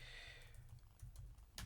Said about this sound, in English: It's hard typing with one hand.